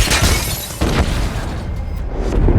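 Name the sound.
very loud explosion of a bomb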